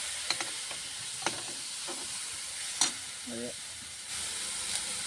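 Grated coconut is stirred into a sizzling okra and egg stir-fry, giving a steady frying hiss with scattered light scrapes and clinks of a spoon against the pan.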